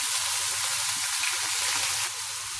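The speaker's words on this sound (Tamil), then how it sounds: "சின்ன வெங்காயம் 150 கிராம் நல்லா பொடியா நறுக்கி வதக்கிட்டு இருக்கேன்." Continuous close sizzling of finely chopped shallots sautéing in a hot pan, a dense steady hiss with faint stirring clatter underneath, no talking.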